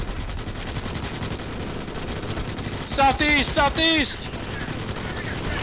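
Dense gunfire from squad weapons in the Starship Troopers: Extermination game, a continuous rattling barrage against arachnids with shouted voices cutting in over it.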